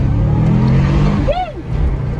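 A Subaru GC8 track car, just fitted with a new knock sensor after a faulty one, runs with a rough engine note and gives one quick rev that rises and falls, close and fairly loud.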